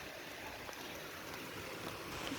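Rain falls steadily in Kayseri, a soft, continuous hiss of drops on surfaces, faint and distant with no voices.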